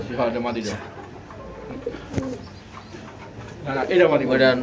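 Pigeons cooing at a bird market, low throaty calls close by at the start and end, with people talking and background bustle throughout.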